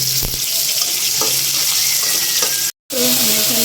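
Chopped onions hit hot oil in a pan with a loud, steady broadband sizzle, broken by a few clinks and one brief cut-out.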